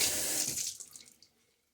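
Tap water runs into a bathroom sink during a rinse after a wet shave, a close hiss that trails off and stops within about a second and a half.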